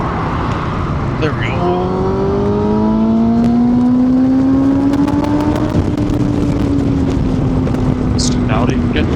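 A Kawasaki ZX10R motorcycle engine climbs steadily in pitch under hard acceleration, loud and close, then levels off with wind roar around it. A rider speaks briefly over the engine.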